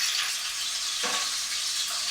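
Small pieces of sausage fry in a frying pan, giving a steady, bright hiss of sizzling fat at close range, with no talk.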